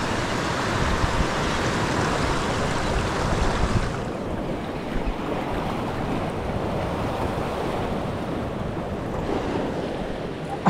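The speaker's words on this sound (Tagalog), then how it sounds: "lakas talaga ng alon" Strong ocean waves and wind buffeting a microphone on a fishing boat at sea, a loud continuous roar of surf and gusts with no break.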